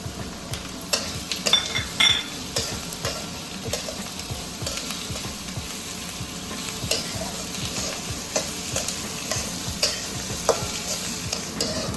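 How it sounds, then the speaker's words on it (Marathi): Onion, garlic, ginger and coriander roasting in a pan, a continuous close sizzle with rhythmic scraping clicks of stirring throughout, no voices. "कांदा लसूण आलं हे सगळं कोथिंबीर भाजून घेते"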